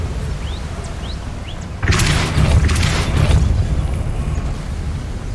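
Depulso force spell cast in the video game Hogwarts Legacy: a sudden deep boom with a rushing, rumbling burst that swells and lingers for a few seconds after a quieter ambient stretch.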